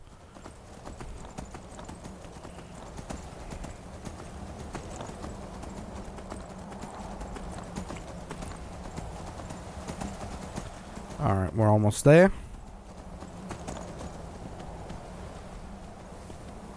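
Hooves clip-clop at a steady trotting rhythm throughout in a video game, with someone speaking briefly over them and a short horse whinny near the end.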